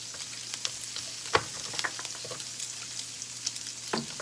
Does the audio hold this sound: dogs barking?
no